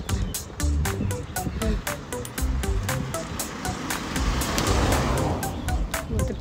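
A car drives past outdoors at a park, a broad swelling whoosh under steady wind and ambient bustle, building toward the end.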